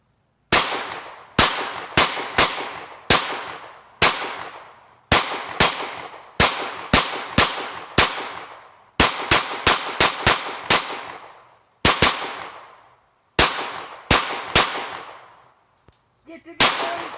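Rapid bursts of FN P90 submachine gun fire, loud and close, come in quick double and triple shots and short strings separated by brief pauses, each crack trailing off with range echo.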